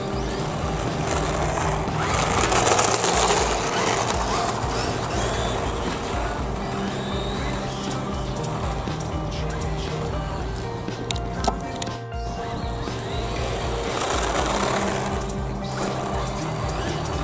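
A Kyosho Scorpion RC buggy drives outdoors under cherry blossom trees, its electric motor whining and buzzing steadily for the whole stretch, swelling louder at times as it nears and easing off as it moves away.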